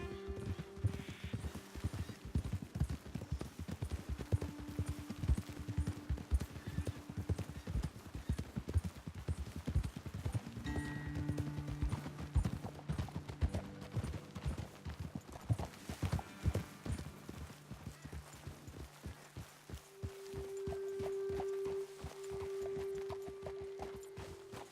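Horses' hooves clip-clop steadily in Red Dead Redemption 2, walking and then breaking into faster galloping strides, close and continuous, with occasional whinnies and a low ambient music bed under the hoofbeats.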